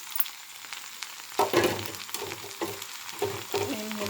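Okra pieces stirred as they fry in a pan: a steady sizzle broken by several close scraping, clattering stirs, with no talking.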